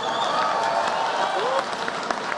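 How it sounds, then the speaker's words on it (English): Audience applause at the White House Correspondents' Dinner, a full, steady round of clapping from a large banquet crowd with a few scattered voices over it. "Give them a round of applause."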